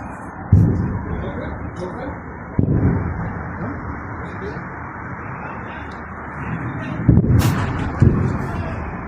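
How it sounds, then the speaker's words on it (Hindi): Missile strikes hit the US Al Udeid air base in Qatar, heard as a few heavy, rumbling booms spaced several seconds apart over a steady roar, with voices audible in the background. "जहां पर मिसाइलें दागी गई वो कतर में अमेरिका के अल उदीद एयर मिलिट्री बेस है"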